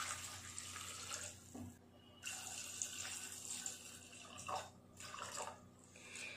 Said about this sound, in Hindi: मैंने यहाँ पे इसको बॉईल करने के लिए 2 ग्लास पानी का यूज किया है।